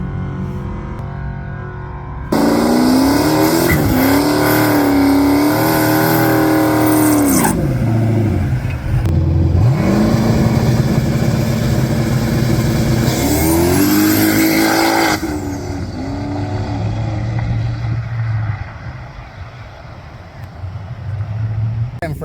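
Turbocharged 5.3 LS-swapped 1996 Camaro launching on a drag pass from a 3,400 RPM launch, engine roaring loud and close as revs climb through gear changes, then fading into distant drone and crowd noise.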